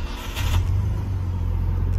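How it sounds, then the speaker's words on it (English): A Nissan Skyline GT-R R33 V-Spec starts up with a brief crank, then a deep engine rumble settles into a steady close idle. "let's fire up the engine"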